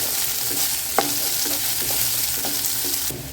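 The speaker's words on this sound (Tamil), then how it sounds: "வெங்காயம் கொஞ்சம் வதங்கிடுச்சு." Onions and curry leaves fry in a pan for green gram kurma, a steady close sizzle with a few spoon stirs and scrapes scattered through, no voices.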